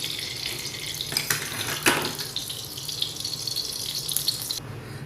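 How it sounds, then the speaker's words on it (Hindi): Edible gum frying in desi ghee in a kadhai over low heat gives a steady, close sizzle and hiss, with a few brief clinks and stirs and no talking. "सबसे पहले हम ये गोंद फ्राई कर लेते हैं देसी घी में।"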